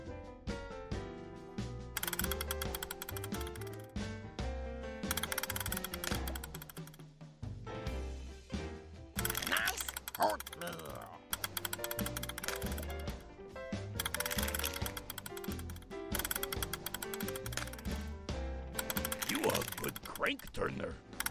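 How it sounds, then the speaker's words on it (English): Turning a crank in the oatmeal factory of a Sesame Street video game gives a run of ratcheting, gear-like mechanical clicks that carry on steadily under cheerful background music. "Go ahead, click to turn the crank."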